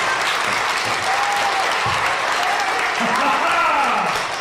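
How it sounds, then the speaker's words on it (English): Thunderous audience applause fills the room at a water-themed science show, a dense steady wash of clapping with faint voices mixed in underneath. "Applause."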